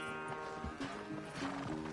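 Horse in a PS4 video game, heard as close hoof clip-clops with a whinny-like neigh over a steady tonal game-music drone.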